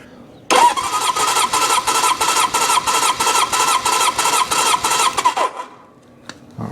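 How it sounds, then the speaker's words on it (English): A 1972 Honda CB750 Four engine cranks on the starter with the throttle held open during a compression test, a loud steady rhythmic churning for about five seconds that then stops. "I'm going to go over and hold the throttle up and push the start button."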